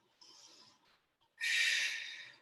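A person breathes during a hip flexor stretching exercise: a soft, short breath, a pause, then a louder, sustained exhale, all close up and without talk.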